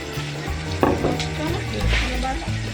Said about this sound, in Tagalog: Ibutan na yung ground pork dito.